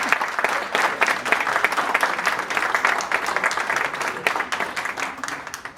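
An audience at a political party conference gives sustained, dense applause, steady and fairly loud throughout with no pause.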